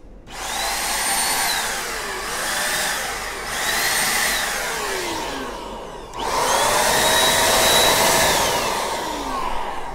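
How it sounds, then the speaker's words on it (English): AirTec Type 6 electric computer air duster blowing a loud, steady whooshing jet of air, its motor pitch rising and falling in waves with a louder surge midway through. "It's a huge radius of air blowing."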